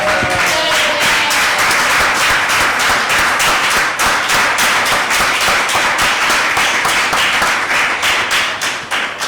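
A church congregation at an Easter service claps together in dense, rapid rhythmic applause, loud and steady throughout with faint voices underneath.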